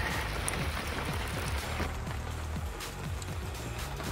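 Steady rain patters on surfaces outdoors in a fabrication yard during a trailer build, a constant dense hiss with scattered drips and no talking.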